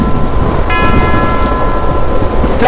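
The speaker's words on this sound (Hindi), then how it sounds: "ओह, ये आंधी।" Storm sound effect from a Hindi horror audio drama: a loud, steady roar of wind and rain-like noise fills the whole stretch, with a sustained ringing tone joining partway through, no voices.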